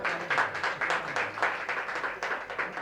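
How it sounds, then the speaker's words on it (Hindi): An audience at a kavi sammelan poetry gathering claps for a singer. The clapping comes in rhythmic, pulsing bursts and runs steadily at moderate loudness throughout. "तो एक बार रजनी बालाजी के लिए बहुत जोरदार तालियां"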